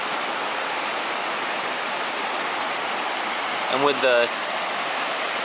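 Rapids of the Puyallup River roar as a steady, broad rush filling the whole clip, a constant near wash of water with a brief spoken voice and a short whistle-like tone briefly over it.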